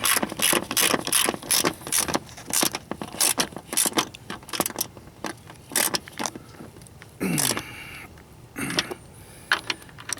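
Rapid bursts of ratchet clicking tightening the front strut bolts on a Ford Taurus, with repeated short runs and pauses, close and fairly loud, then a few slower final clicks.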